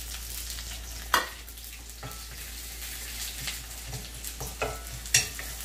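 Sliced onions and green chillies fry in a pan with a quiet, steady sizzle, punctuated by occasional sharp spatula clicks and scrapes, close by and without speech.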